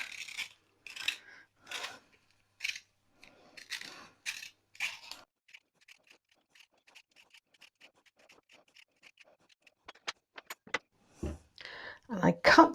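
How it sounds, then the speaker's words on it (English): A knife slices through a pear on a cutting board: a string of crisp scraping cuts, close and fairly quiet, with light taps and clatter toward the end, while a person talks. "and I cut the base off so it will stand."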